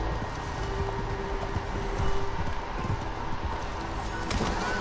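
Horse hooves in the Red Dead Redemption Online video game, a steady rapid clip-clop of a ridden horse under a busy layer of game ambience and faint bird calls, with no talking.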